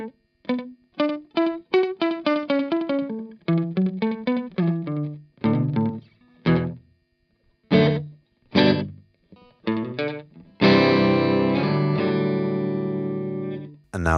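Electric guitar through a Safari Pedals amp sim with slap delay at 100%, quick picked single-note runs and stabs each trailed by a short tight echo, ending on a sustained strummed chord.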